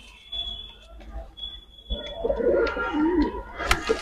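Domestic racing pigeons kept for flying contests coo low and throaty in short bursts close by in a loft, alongside rustling, a thin high whine and some background voices.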